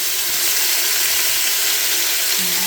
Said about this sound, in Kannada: ಈಗ ಒಗ್ಗರಣೆಗೆ ಚಿಕನ್ ಎಲ್ಲ ತೊಳೆದಿರೋದು ಹಾಕ್ತಾ ಇದ್ದಾರೆ